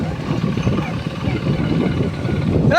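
A school bus engine runs steadily at idle or low speed, a continuous low rumble that stays loud and close for the whole stretch.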